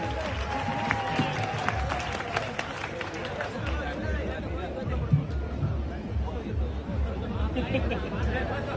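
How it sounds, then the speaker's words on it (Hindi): Crowd at a political rally in Maharashtra cheering and clapping for Arvind Singh Bhati, a dense, loud wash of applause and chatter with scattered shouts throughout. "जोरदार मेरे युवा भाइयों एक बार तालियां फिर से बजा दीजिए अरविंद सिंह जी के लिए"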